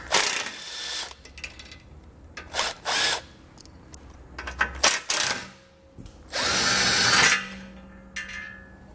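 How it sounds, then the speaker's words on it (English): Power tool with a 13mm socket removing bolts from a 2020 Jeep during a base plate install, heard as short whirring bursts of varying length mixed with clanks and handling noises, one longer burst near the end. "We're going to use our 13mm socket to remove these 2."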